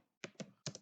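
Three quick, close taps on a computer keyboard while a program is entered for an 8085 microprocessor, crisp and faint with no talk.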